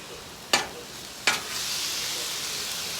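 Two sharp scraping stirs of rice against a hot pan with beef, each a quick close rasp, followed by a steady soft sizzle that builds and holds.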